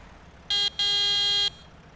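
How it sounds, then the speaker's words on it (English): A weak, thin, buzzy electronic vehicle horn honks twice in a video game, a short beep then a longer blast, over faint background hum. "What a weak horn."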